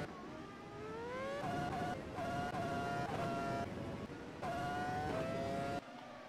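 Racing cars roar past during a Formula One-style race, engines whining and shifting up through gears in repeated waves, with a commentator talking throughout.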